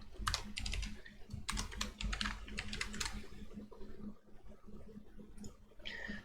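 Typing on a computer keyboard while writing a code comment, close and clear keystrokes in quick irregular bursts with short pauses between runs.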